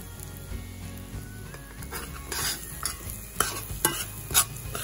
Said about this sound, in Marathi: नंतर आता त्याच्यामध्ये आपण हा रवा घालून तो चांगला परतून घ्यायचा आहे.